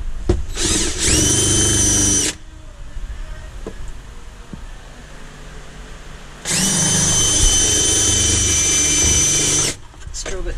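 A power drill works on a BMW E30 drift car during an electric power steering install, giving two loud sustained whining bursts separated by a quieter pause with shop noise.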